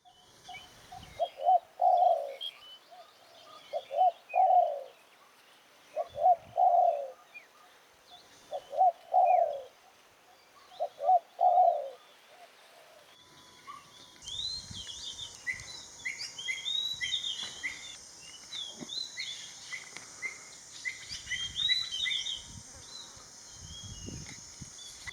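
A spotted dove (Spilopelia chinensis) gives a series of soft, hoarse cooing phrases, about six evenly spaced calls, close and clear in a quiet garden in Thailand. Fainter chirping birds and insects carry on in the background afterward.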